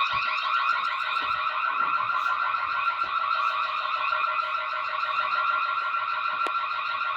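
A security and fire alarm system test produces a loud, continuous electronic alarm tone that holds steady throughout, with a few faint clicks and knocks underneath.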